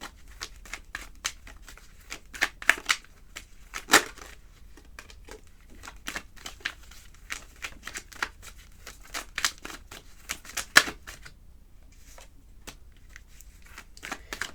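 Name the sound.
tarot cards being shuffled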